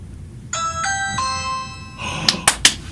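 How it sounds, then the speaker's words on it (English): A doorbell chimes close by, three ringing notes in quick succession followed by a few sharp clicks or knocks, with no voices over it. "now what we're going to do is we're going to ring the doorbell"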